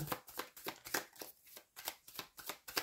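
Tarot cards being shuffled by hand, a quick rhythmic series of papery riffles and slaps, close and fairly quiet, with no talk over them.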